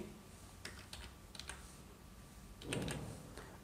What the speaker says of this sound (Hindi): यहाँ पे मैं लास्ट सिक्स डिजिट डाल देता हूँ